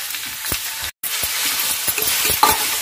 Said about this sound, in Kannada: ಈಗ ನಾನು ಇದನ್ನ ಚೆನ್ನಾಗಿ ಫ್ರೈ ಮಾಡ್ಕೋಬೇಕು.